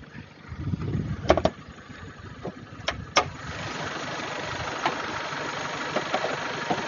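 A Suzuki Vitara's inline four-cylinder engine turns over and settles into a steady idle, with a few sharp clicks early on and a continuous low rumble afterward.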